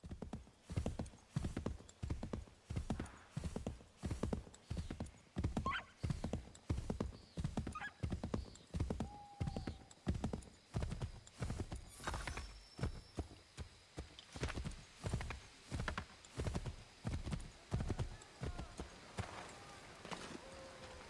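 Rapid, regular hoofbeats of a galloping horse in Assassin's Creed 3 thud steadily throughout, loud and close, with a brief whinny partway through.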